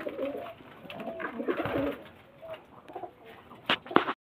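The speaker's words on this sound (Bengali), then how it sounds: "এই যে আমাদের বাপ্পাদা মাদাগুলো মানে একটা একটা করে ধরে ধরে নিয়ে আসছে" Pigeons coo in low, soft, throaty calls, several birds close by. Talk runs over them, and a few sharper sounds come near the end.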